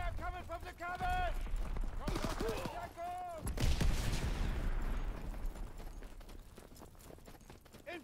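Gunfire from the WWII shooter Call of Duty: WWII, with scattered shots and a louder burst near the middle among battlefield noise while in-game voices call out over the combat.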